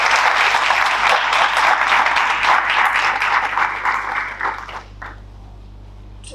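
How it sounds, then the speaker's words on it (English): Steady crowd applause at an environmental health students' pledge and oath ceremony, with dense clapping that fades out toward the end, leaving quiet room noise. "So can you give them a huge round of applause?"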